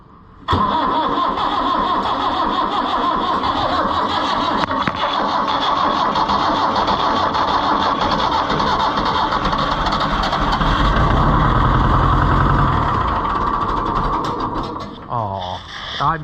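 An Oliver 1365 tractor engine cranks and fires, then settles into a loud, steady diesel idle close by with a throaty rumble that swells near the end before cutting down, no talk.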